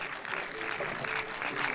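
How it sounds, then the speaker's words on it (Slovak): An audience applauds a folk music ensemble at the Muziky pod Poľanou 2022 outdoor festival, a steady, moderately loud wash of clapping with no voices. "ešte jeden veľký potlesk"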